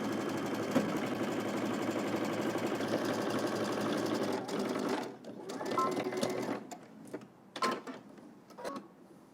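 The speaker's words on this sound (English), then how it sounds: "We're going to head to the machine and stitch all the way across using 5/8 of an inch seam allowance." A sewing machine stitching a sleeve seam on a Simplicity garment pattern, a steady close mechanical whir for several seconds that then breaks into shorter starts and stops with brief pauses.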